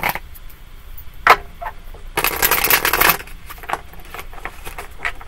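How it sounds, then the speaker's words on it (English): Tarot cards are shuffled close by: light taps and flicks, then a dense papery rush of cards riffling for about a second, followed by softer handling. "We're going to shuffle it back in."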